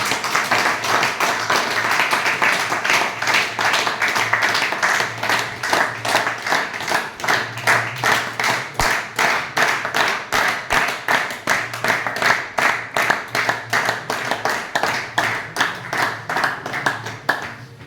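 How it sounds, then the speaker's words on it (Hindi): A crowd at an outdoor event in Fatehabad claps loudly and in unison, a long run of strong rhythmic beats that holds steady from start to finish, with music faintly underneath. "एक बार जोरदार तालियां, जोरदार म्यूजिक प्लीज सर"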